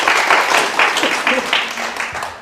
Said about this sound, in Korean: 무슨 박수를 그렇게 심히